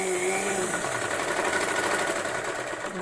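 Sewing machine stitching a prince-cut blouse, a fast steady mechanical whir with a rapid even needle rhythm, close and continuous.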